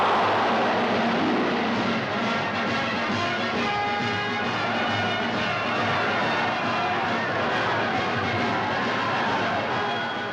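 Propeller airplane, the Spirit of St. Louis flown by Charles Lindbergh on his nonstop New York to Paris flight, drones steadily and loudly throughout with a constant engine hum and no pauses.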